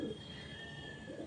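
Domestic fancy pigeons, a master pair kept at home, cooing in a short low throaty burble, close and fairly soft, with faint background ambience.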